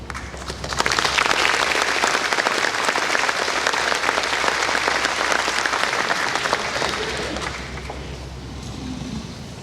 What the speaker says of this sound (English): Please give these students another round of applause.